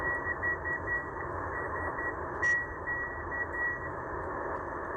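A Morse code channel marker on shortwave between 8000 and 9000 kHz: a steady high-pitched tone keyed in short on-off beeps over a constant hiss of radio static, faint and continuous throughout.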